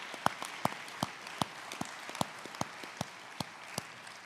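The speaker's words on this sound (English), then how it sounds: "let's give those in the virtual audience a round of applause" Sparse, scattered clapping from a small audience at an author talk, individual sharp claps spaced unevenly at a moderate distance, fairly faint with no talking over it.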